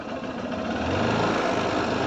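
A Mi motorbike engine runs at a steady idle, a close, even buzzing rattle with a low throb underneath, heard alone.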